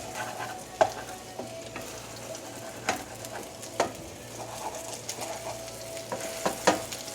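Stuffed poblano chiles rellenos fry in a pan over medium heat, giving a steady close sizzle with occasional sharp clacks and scrapes as the food is stirred.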